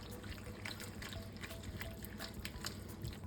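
Half and half poured into a pot of beef and noodles, a steady close liquid stream running for a few seconds under faint kitchen background.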